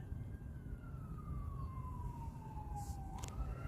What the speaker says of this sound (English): Hear the fire trucks? Can you hear that?